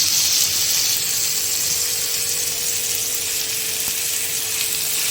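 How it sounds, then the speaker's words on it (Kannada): Prawns frying in a pan for a coastal Kundapura-style prawn sukka, giving a steady, close, loud sizzle with a bright hiss that runs unbroken and alone, with no talk. "ಚಂದ ಫ್ರೈ ಮಾಡಿ"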